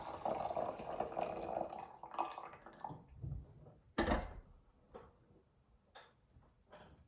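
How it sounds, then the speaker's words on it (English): Coffee pours from a French press in a soft stream for a few seconds, then trails off into scattered drips and light clinks, close and quiet. "that is how you pour a French press"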